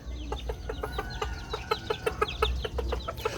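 Chickens cluck in a steady series of short calls, fairly close, over a low rumbling background.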